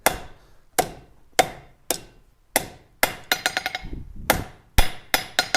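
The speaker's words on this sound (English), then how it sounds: "I'm going to bend the rest of this at a 90 degree." Steel being hammered into a 90-degree bend while forging tongs: a steady run of sharp, ringing blows close by, about a dozen strikes, with a quick flurry of lighter taps in the middle.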